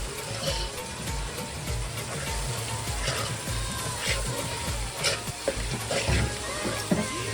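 Mutton masala being stirred in a pan over a slow flame, with a steady, close sizzle of frying and scraping spoon strokes running throughout, no voices.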